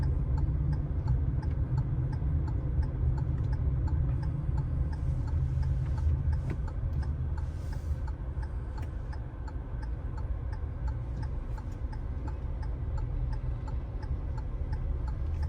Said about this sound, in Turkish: Sol sinyalimizi verdik.